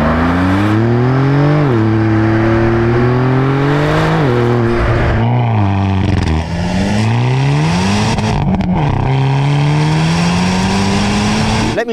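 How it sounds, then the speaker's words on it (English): A Hyundai i30N and a Porsche Turbo S accelerate hard and run through the gears, each engine note rising in a strong, loud drone, dipping at every shift and climbing again, heard close up with no talk. "So I'm going to give you a montage of both cars driving, and you can then compare their sounds that way as well."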